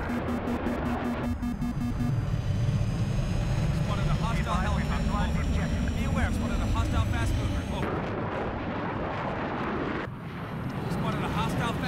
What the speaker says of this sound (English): Roger, spotted a hostile jet.